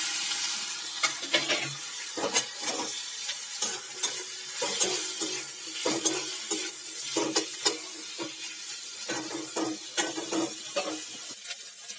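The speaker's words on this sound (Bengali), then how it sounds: "ভাজা হয়ে যাওয়ার পর এখানে ক্যাপসিকাম কুচিগুলো দিয়ে দিলাম।" Chopped capsicum fries in hot oil with onion paste, sizzling under a run of stirring scrapes and clinks from a utensil against the pan, close and without talk.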